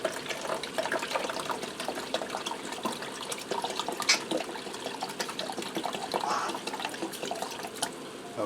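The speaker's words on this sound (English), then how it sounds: "I'm going to add in 2 cups of beef broth." Beef broth poured into an Instant Pot over raw penne pasta, a steady liquid splash and trickle running continuously at moderate loudness, with no talking.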